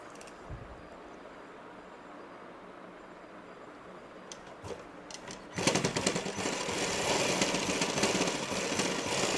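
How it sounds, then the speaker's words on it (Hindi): A sewing machine stitches the two legs of a cut-work salwar poncha, starting as a faint hum and then running loud and continuous for the last few seconds. "इन दोनों पैरों दोनों पल्लों को बराबर रख के सिलाई लगाएंगे"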